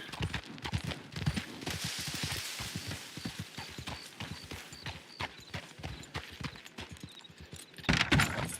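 Horse hooves clip-clopping in a Western roleplay game, a steady run of sharp, close hoofbeats lasting the whole stretch, with a louder clattering burst near the end.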